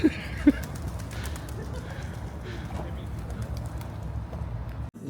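A flock of several hundred pigeons coos softly in the background amid a busy outdoor murmur, with a couple of brief louder calls near the start.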